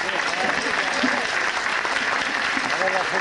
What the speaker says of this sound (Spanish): A ver esos aplausos si lo piden.